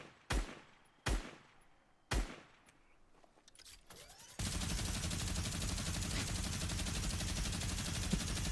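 In Fortnite, three loud, separate gunshots ring out first, then a minigun opens up into a continuous, dense roar of rapid fire that lasts until the end.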